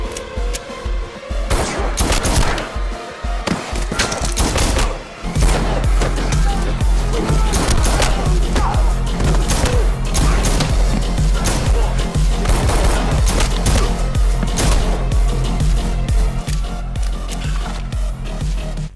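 Rapid bursts of TTI Glock 34 pistol fire in a John Wick 2 action scene, loud, close shots cracking in quick volleys one after another, layered over a dense cinematic soundtrack with barely any pause.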